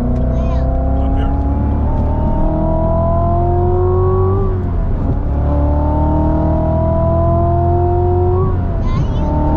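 Supercharged Chevrolet Corvette Z06 pulling hard through two rising gear runs, engine drone climbing in pitch, briefly dipping at a shift, then climbing again, loud and close from inside the cabin with occasional speech over it.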